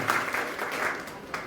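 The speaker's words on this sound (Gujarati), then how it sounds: "બંનેને તાળીઓના ગડગડાટથી વધાવીએ" Audience applause at a BJP political rally in Rajkot district, Gujarat, a steady broadband patter of many hands held at an even level for the whole stretch, with a faint voice underneath.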